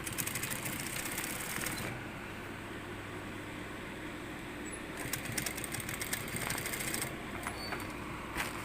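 A sewing machine stitches trousers in short bursts of rapid mechanical rattling, with quieter pauses between runs under a faint steady hum.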